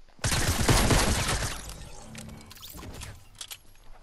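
Gunfire in a classic-mode solo squad shooter game, one loud burst of rapid shots up front that fades into echoing clatter and a few lighter later pops.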